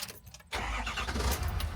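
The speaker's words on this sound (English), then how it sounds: "we'll fire up the engine" A 2019 Ford F-550 bucket truck engine cranks and catches after a brief quiet moment, settling into a close, rumbling idle.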